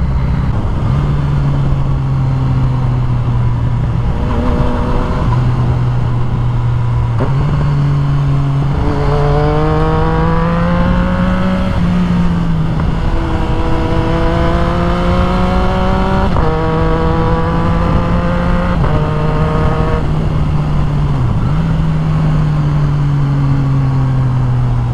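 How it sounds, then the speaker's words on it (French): A Yamaha MT-09 motorcycle engine runs steadily and rises through several loud, close revving pulls, its tone climbing and falling between gear changes for about twenty-five seconds, with no voices. "Le moteur, il est juste incroyable, je trouve. Ça chante putain de bien"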